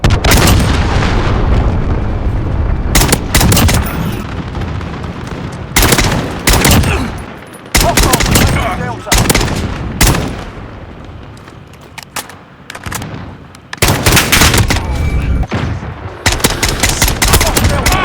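Rapid bursts of Call of Duty gunfire ring out loud and close in repeated volleys, with a few booming shots mixed in and short gaps between them.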